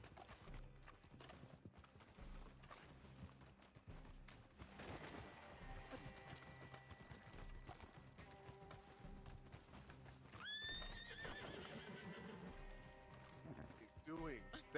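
Horse hooves clip-clop with occasional neighing in a Western roleplay video game, heard intermittently beneath near-constant player talk and game background sounds.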